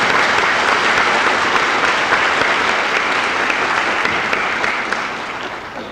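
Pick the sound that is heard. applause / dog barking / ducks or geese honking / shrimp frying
applause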